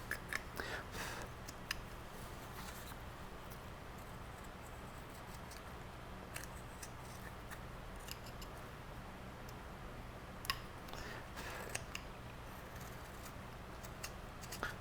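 Wood-carving gouge undercutting along the sides of a carved nose on a grinning face, giving faint scattered scraping ticks and short cuts over a steady low hum, with no talking.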